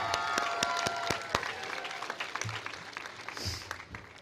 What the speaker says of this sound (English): So give yourselves a round of applause, because y'all did it.